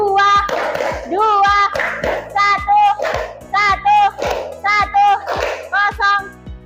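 Children in a classroom doing a rhythmic spirit clap, sharp sets of claps in a steady pattern alternating with loud chanted shouts from the group, close and energetic.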